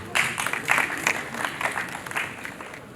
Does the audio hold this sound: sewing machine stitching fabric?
no